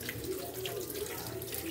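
Tap water runs steadily into a sink while salad vegetables are rinsed, a constant close splashing stream with a few faint drips and no talking.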